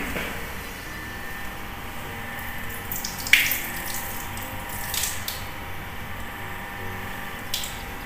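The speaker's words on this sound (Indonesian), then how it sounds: "kita cuci dengan air mengalir terlebih dahulu." Steady running tap water hisses continuously as a pathology lab slide is rinsed after hematoxylin staining, with a few faint clinks and splashes partway through.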